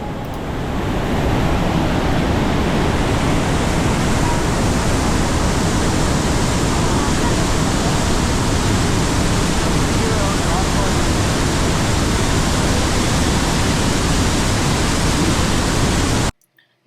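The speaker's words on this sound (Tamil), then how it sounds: "இப்போ நாங்கள் இன்னொரு ட்ரெயில் ஃபாலோ பண்ணி ஃபால்ஸ் கிட்டக்க வந்திருக்கோம்." A waterfall in Switzerland roars up close, a loud, dense, constant wash of falling water that fills the whole scene and cuts off abruptly at the end.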